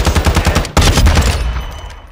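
A B&T APC223 PDW fires a rapid, loud burst in Modern Warfare II, the close rattling shots ending in a sharp final crack and a decaying echo.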